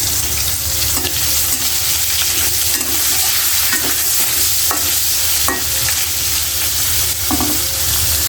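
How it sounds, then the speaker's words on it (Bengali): Fish frying in hot oil in a pan for a Bengali shukto, giving a constant dense sizzle close up with occasional spatter pops and stirring scrapes throughout. "এই যে তেলটা গরম হয়ে পরে মাছটি দিয়ে দিছি"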